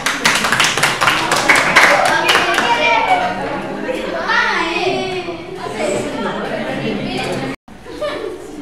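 Classroom applause for a student at a vocational school, a loud burst of clapping from many hands that fades into children chattering and talking.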